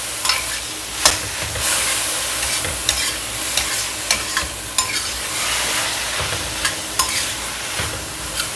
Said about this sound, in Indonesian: Kayak gini tinggal diaduk-aduk.